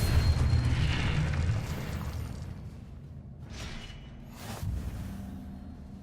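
In the Hogwarts Legacy video game, the Depulso spell is cast with a heavy, booming blast and a rushing whoosh, followed by a second softer whooshing burst over continuous game ambience.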